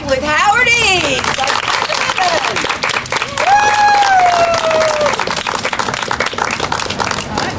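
A crowd gives a big round of applause at the opening of a new Snow White business with a host. The clapping is loud and continuous, with whistles and voices mixed into the crowd.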